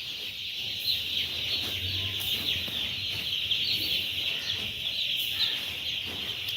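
Broiler chicks on a small home farm chirp and peep continuously in a dense, steady chorus, close and fairly loud throughout, with faint low rustling beneath.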